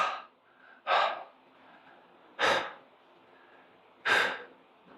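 Heavy, forceful breaths during exercise come in four loud gusts at roughly even intervals, close to the listener, with quiet breathing between them.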